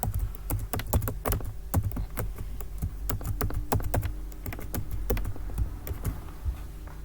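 Someone types a password on a computer keyboard with a rapid, uneven patter of key taps, close and fairly quiet, with brief pauses between bursts.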